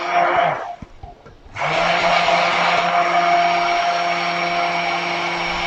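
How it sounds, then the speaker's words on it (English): A hand blender whirs loudly as it emulsifies strawberry puree with white chocolate, stopping briefly near the start before running on in a steady, high-pitched motor whine. "I will suggest you guys using the hand blender"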